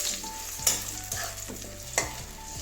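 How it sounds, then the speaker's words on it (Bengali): Potatoes fry under a lid, with a continuous low sizzle, a faint hum and a few sharp stirring clicks. "আলুটা এবারে ঢাকা দিয়ে দিয়ে ভাজবো"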